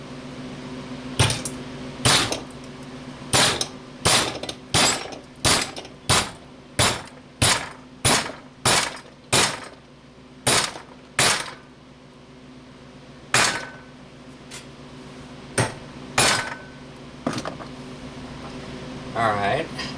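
A big hammer strikes a VW trailing arm hinge bolt on a car's rear suspension, around twenty sharp metallic blows in a quick steady rhythm that slows into spaced hits, loud and close.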